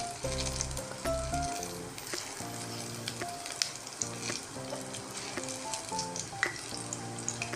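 Pakoras dropped by hand into hot oil sizzle and crackle steadily, with stirring and scraping as more pieces go in, close up and with no speech.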